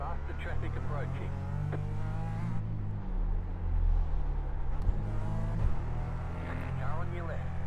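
A race car in an IMSA sportscar endurance racing game drones with a steady engine tone and shifting pitch as traffic nears and passes, under frequent talk from a voice in the foreground.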